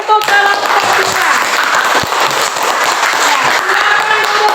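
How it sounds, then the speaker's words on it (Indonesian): Classroom applause for a student group, a loud, steady crowd of clapping that fills the whole stretch, with some voices mixed underneath. "Ayo berikan tepuk tangan untuk kelompok 2."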